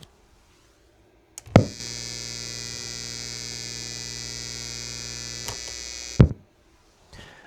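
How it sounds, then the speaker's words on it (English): An old guitar amplifier on mains grid power switches on with a sharp pop, settles into a steady low electrical hum for several seconds, then cuts off with another pop; close and otherwise quiet. "relatively quiet, a little bit of pop, a very slight hum"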